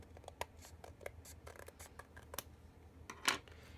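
Scissors trimming excess card stock, a few quiet snips and crisp paper rustles, close up, with one sharper cut near the end.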